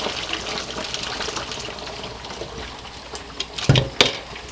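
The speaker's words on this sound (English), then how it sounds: "I'm going to take the jars out of the" Jars being lifted out of a pot of boiling water while canning pickles, with a steady background wash of bubbling water and a few short, louder splashes and drips near the end.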